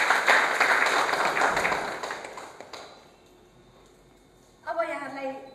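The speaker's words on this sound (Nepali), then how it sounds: "ताली बजाएर स्वागत गरौँ साथीले।" An audience at a motivational training session of Manab Sewa Ashram claps in welcome, a dense burst of applause that thins out over a few seconds before a voice starts speaking.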